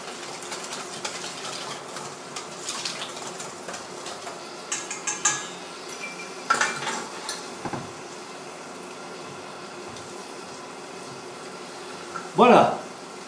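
A garlic tart filling with cheese gets whisked in a bowl: soft intermittent clinks and scrapes, fairly faint over a low background hum, with a sharper clatter near the end.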